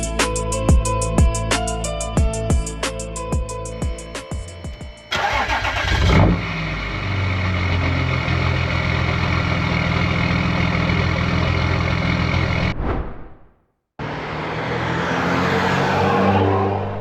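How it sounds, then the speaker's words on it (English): A diesel Audi A5 with a modified exhaust cranks with rapid clattering starter pulses, fires up and revs loudly, settles into a rumbling idle, cuts out abruptly, then returns to a steady close engine drone. "let's finally hear this car roar"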